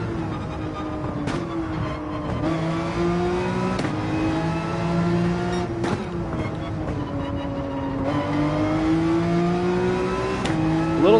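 A race car engine in Gran Turismo 7 revs and pulls through gear changes, pitch climbing and dropping repeatedly with sharp shifts every couple of seconds, loud and close over a steady drone.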